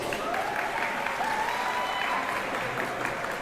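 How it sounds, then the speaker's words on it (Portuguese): Guests at a Bridgerton-themed debutante fifteenth-birthday ceremony in a mansion applaud in a steady, dense wash of clapping, with crowd murmur and some talk mixed underneath. "Uma salva de palmas."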